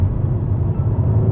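A Mercedes-AMG C63 S driving, heard as a loud, steady low engine rumble and road drone from inside the car, with no talking.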